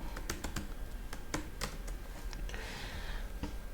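Keys clacking on a computer keyboard as a command is typed into PowerShell ISE, a sparse run of separate, fairly close keystrokes with uneven gaps over a steady background hiss.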